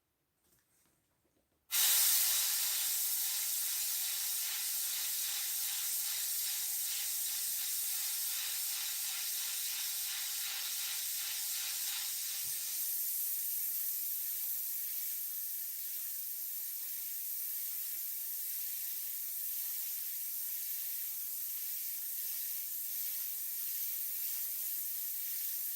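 Airbrush spraying paint onto a fishing lure: after a short quiet start, a loud, continuous close hiss of air and paint begins abruptly and runs steadily to the end, easing slightly partway through.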